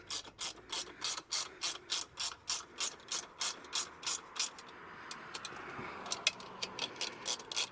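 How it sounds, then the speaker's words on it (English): A ratchet tightens nylock nuts during a Kings 270 freestanding awning install on a 4WD, clicking in fast, even bursts of strokes, a short pause, then more quicker clicks, close and clear with no talking. "now what you want to do is tighten up all the nylock nuts."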